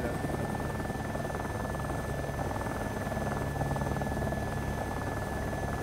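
Helicopter in the DayZ video game running steadily throughout, a dense continuous rotor and engine drone with a faint high whine, even and moderately loud with no speech over it.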